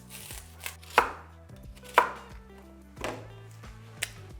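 An onion is chopped on a cutting board with a knife for Sichuan boiled beef, a slow series of about five sharp, close knock-like strikes spaced roughly a second apart, with small sounds between them.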